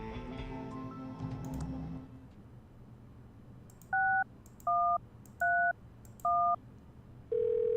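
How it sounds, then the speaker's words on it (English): In the video game Thimbleweed Park, a cell phone dials a number, four distinct beeping key tones spaced evenly, then a steady ringing tone begins, after a brief stretch of musical background. "Actually using the cell phone."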